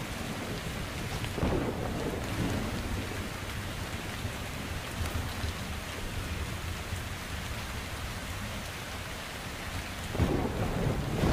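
Heavy rain pours steadily while low thunder rumbles beneath in the video game Metro Exodus, swelling near the start and again toward the end; no voices.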